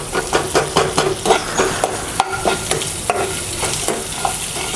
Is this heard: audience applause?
no